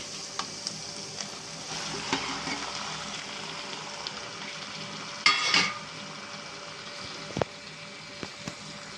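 Mutton fat frying in oil with ginger garlic paste, a steady low sizzle running throughout with occasional stirring scrapes and a brief louder crackle in the middle.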